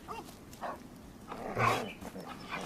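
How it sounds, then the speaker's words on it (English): Dogs give a few short barks and whines, fairly close and not very loud, in brief bursts over a low background. "Can't you shut those dogs up?"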